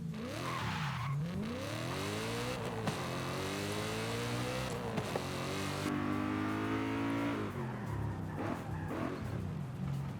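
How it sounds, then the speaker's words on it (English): A BMW E92's engine heard from inside the cabin, revving continuously with pitch repeatedly climbing and falling as it accelerates and eases off. "I love the sound of the E92."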